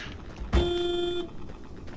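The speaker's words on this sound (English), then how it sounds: "so it honks every time I close the back." A car's horn in the Pacific Drive video game sounds as its back hatch is shut, one loud, flat honk lasting under a second after a sharp closing thud, with quiet background before and after.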